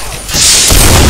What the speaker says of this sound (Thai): โดนระเบิดผมไปอ่ะ